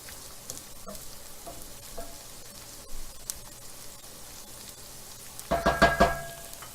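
Sun-dried tomatoes fry in a pan while being stirred, with faint scraping and knocks, then a brief louder burst of sizzling toward the end.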